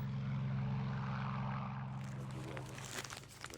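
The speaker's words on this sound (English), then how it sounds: "it's left to Charlie to pilot his plane home, while us lesser mortals watch from the sidelines" Propeller-driven plane, a WWII-era Spitfire, droning steadily with a strong low engine hum that stays loud throughout, with some added noise toward the end.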